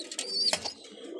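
Pigeons of a black breed kept in a loft coo softly and briefly, with a faint chirpy call mixed in and no talking.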